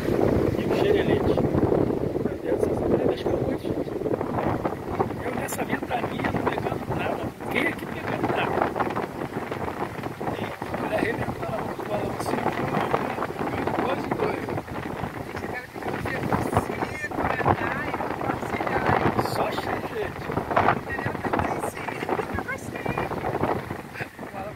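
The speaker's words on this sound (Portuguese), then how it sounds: "Bateu um vento e começou a chuviscar." Wind buffets a microphone on a boat during a fishing trip as a light drizzle begins, a loud continuous rumbling rush for the whole stretch, with people talking at times under it.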